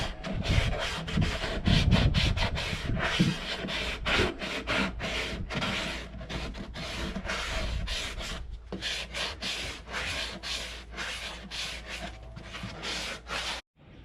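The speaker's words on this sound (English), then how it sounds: "And final sand with the sanding block." Wood for a VW Bus camper cabinet sanded by hand with a sanding block, a close, rhythmic series of rasping back-and-forth strokes that continues throughout with no speech.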